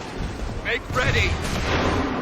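Cannon fire in the Assassin's Creed III video game, a heavy booming blast over a rumbling battle din, with shouting voices in the background.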